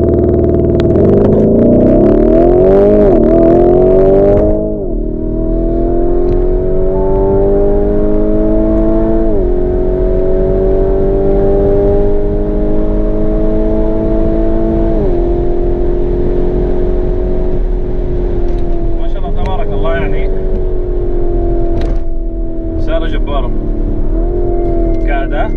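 A 2019 Lamborghini Urus engine drones loudly and steadily, stepping up through gears with brief dips as it accelerates hard, while someone talks over it throughout.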